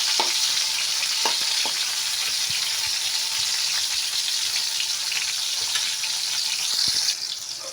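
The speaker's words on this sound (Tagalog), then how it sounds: "lagay na rin natin yung kamatis. Dahan-dahan tayo dahil tumatalsik yung kamatis." Tomatoes fry and splatter in a hot pan for menudo, a steady close sizzle with scattered sharp pops and spits throughout, with no talk over it.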